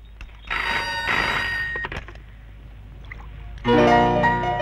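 A telephone rings twice in an indoor home setting, with bright repeated bursts and quiet room tone between them, the second ring louder and closer.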